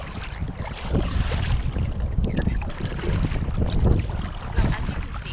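A kayak is paddled toward the shore, with a steady wash of water and wind rushing across the microphone and soft splashy strokes throughout.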